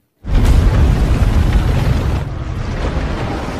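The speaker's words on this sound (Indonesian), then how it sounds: "satu persatu bom tiba-tiba meledak dan mulai menenggelamkan kota Gotham" A sudden deep boom erupts and rolls on as a sustained, loud rumbling roar, like a large explosion echoing and fading only slightly: bombs exploding across a city.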